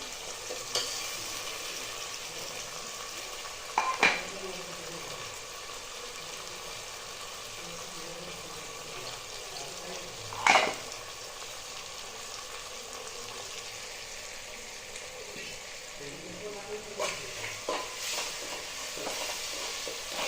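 Onion with ginger-garlic paste sautéing for masala rice, a steady low sizzle running throughout with a couple of sharp utensil clinks, heard up close and without speech.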